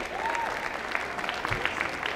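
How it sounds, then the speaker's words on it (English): Audience applause greets five dance couples coming onto the floor for a B Grade Standard ballroom final. The clapping is steady and moderately distant, with no talk over it. "Let's bring them out, ladies and gentlemen. Give them a round of applause."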